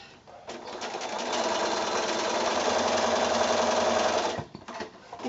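Sewing machine stitching quilt block pieces for a house block runs in one steady, fast, close whirring burst of about four seconds, then stops, leaving a few light clicks and handling sounds.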